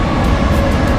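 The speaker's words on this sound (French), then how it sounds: "Et le train est sympathique." Steady, loud rumble of a moving passenger train on the line to Abisko in the Swedish mountains, heard from inside the carriage as a continuous broadband roar with no voices.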